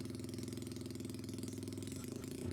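A moped engine idles steadily after its idle speed was lowered, with an even, close, rapid low putter that holds constant and shifts slightly near the end.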